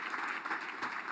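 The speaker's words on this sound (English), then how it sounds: "How about a round of applause for Dean Johnson?" Brief, steady burst of audience clapping at an economics center's annual awards evening, acknowledging the college's longtime dean, Larry Johnson; moderately loud and even throughout.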